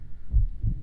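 A real human heartbeat recording from a horror movie trailer gives two deep, muffled low thumps, close and prominent, in a near-silent moment.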